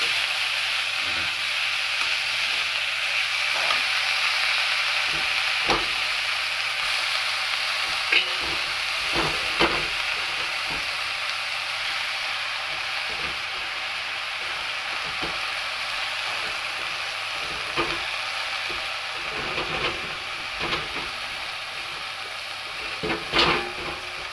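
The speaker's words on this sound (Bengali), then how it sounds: "আমার এটা হয়ে গেছে, লাল করে ভাজবো।" Mustard greens fry in a pan with a steady close sizzle and hiss. Scattered clicks and scrapes of stirring recur throughout, and no one speaks.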